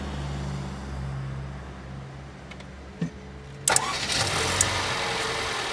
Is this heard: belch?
no